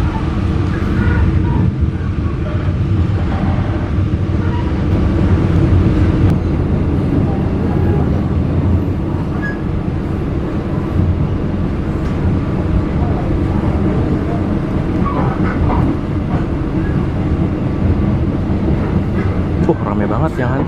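A passenger train hauled by a vintage-livery locomotive rumbles steadily from inside a carriage, a constant low roar and rattle of wheels on track lasting throughout, with voices talking faintly under it.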